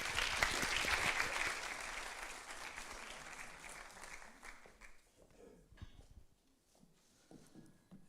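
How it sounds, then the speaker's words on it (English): An audience at a college Women in Engineering roundtable talk claps loudly together, the applause strong at first and then thinning out and fading over several seconds. "Please give her a round of applause."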